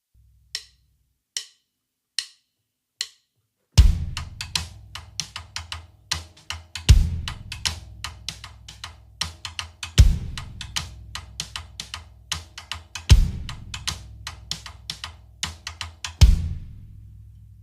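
A drum rhythm on the floor tom opens with a few sparse taps, then the kick drum lands on each downbeat under a busy, evenly repeating tom pattern, close and alone.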